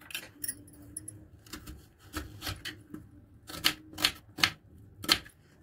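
A knife chops an onion into small squares on a board, giving quick, crisp clicking taps in an uneven rhythm that build into a brisk run of sharper chops toward the end.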